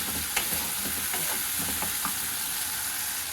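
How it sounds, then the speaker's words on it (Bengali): Spice masala sizzles steadily in a pan with a splash of water while being cooked down for a prawn curry, with occasional scraping stir strokes over continuous close frying. "জল দিয়ে মশলাটা যত ভালো কষা হবে তত কিন্তু রান্নার টেস্টটা ভালো আসবে।"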